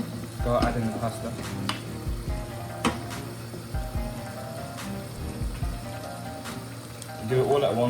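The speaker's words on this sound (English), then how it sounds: "Start adding the pasta." Pasta being added to a boiling lamb sauce in a pan, with a steady bubbling sizzle, occasional stirring clinks and scrapes, and low background hum throughout.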